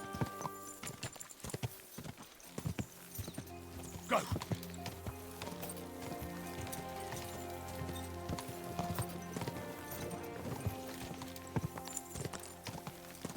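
Horse hooves clip-clop at a steady gallop throughout the Kingdom Come: Deliverance 2 video game, with a short whinny near the start and a brief shouted word over the riding.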